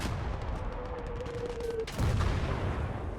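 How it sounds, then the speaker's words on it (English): Grenade explosion in the World War II game Gates of Hell during a PvP battle, a sharp burst about two seconds in over steady distant battle noise and low rumble. "That was a good nade."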